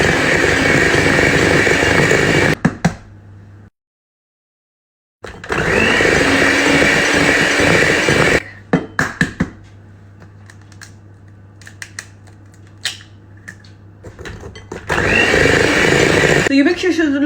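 An electric mixer beats eggs one at a time into lemon and blueberry traybake batter, loud steady whirring runs in long bursts separated by pauses, quiet clatter and a silent gap.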